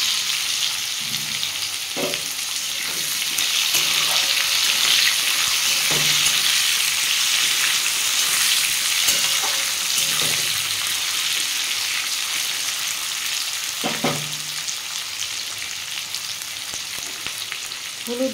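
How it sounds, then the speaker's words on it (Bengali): Onion and tomato frying in oil with white mustard seeds, a steady close sizzle with periodic stirring scrapes, no talking. "দিয়ে পেঁয়াজটা ভালো করে বন্ধুরা ভেজে নেব"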